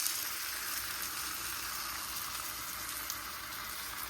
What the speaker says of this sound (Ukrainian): на вершковому маслі обсмажу зараз трошки тортія